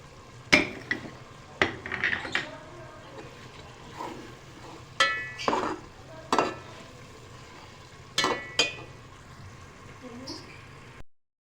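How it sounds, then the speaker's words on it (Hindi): Mustard seeds and whole garam masala crackle in hot oil in a pot for vegetable pulao, with repeated sharp sizzling bursts and stirring clatter coming in uneven spurts, close and moderately loud, and no talk over them. "तो अब हम इसमें ऐड करेंगे सबसे पहले राई, और साबुत गरम मसाला"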